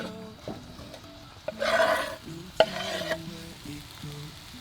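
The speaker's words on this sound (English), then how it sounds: "I'm gonna fry this in the oil until this is like a caramel" Onions slowly frying in oil in a pan toward a deep caramel brown, with a soft sizzle under a brief burst of stirring and a sharp knock of the utensil, set against faint background tones and no speech.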